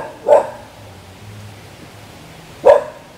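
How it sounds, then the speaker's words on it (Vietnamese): Dogs chasing someone near an overgrown cemetery let out two sharp, close barks about two seconds apart, with quiet rustling and faint background noise in between. "gặp mấy chú chó dí mình rồi"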